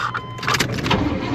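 A GMC truck, overheated after idling, has its starter cranking while the engine fails to catch, a brief whirring, chugging churn heard up close and alone, with no one speaking over it.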